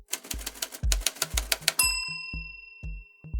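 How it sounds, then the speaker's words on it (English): A new manual typewriter clacks out a rapid run of sharp keystrokes, then the carriage bell rings with a bright ding that lingers. A few spaced key strikes follow. "What's changed is that I have a new typewriter."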